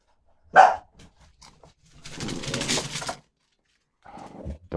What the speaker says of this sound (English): Dogs are kicking off because they think the Tesco's are here